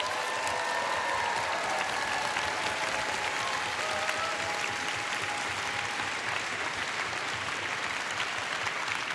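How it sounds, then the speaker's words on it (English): A large convention crowd at the MINECON 2013 costume contest claps loudly and steadily for the contestants, with dense continuous applause throughout. "can you give all of the contestants a round of applause?"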